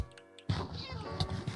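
A Minecraft cat meows in a short, whiny burst right after a brief electronic tone, close and clear.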